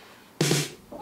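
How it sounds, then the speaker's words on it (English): A single short cat-like meow bursts out loud against a quiet background, lasting under half a second before fading into a faint trailing tone. "That made a cat sound."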